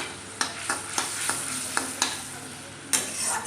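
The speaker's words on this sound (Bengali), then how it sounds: "এবার জল দিয়ে ভালো করে মশলাটাকে কিন্তু আমি মেখে নেব।" A spoon scrapes and stirs spice masala with chilli powder and water in a hot pan, giving repeated sharp clinks every half second or so over a soft continuous sizzle.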